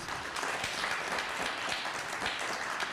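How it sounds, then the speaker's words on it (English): An audience at a teach-in applauds the panelists, a steady, moderately distant patter of many hands clapping throughout, with no voices over it. "Let's give them a round of applause"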